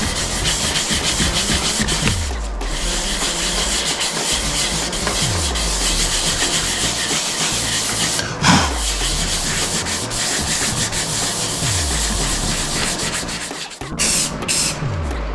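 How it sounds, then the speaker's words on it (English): Steady back-and-forth rubbing of a 500 grit sanding pad over a finished Telecaster guitar body between lacquer coats, repeating strokes at a close, even level with no talking. "After each coat on the body, we sanded with a 500 grit sanding pad, moving up higher to 1200 for the final coats."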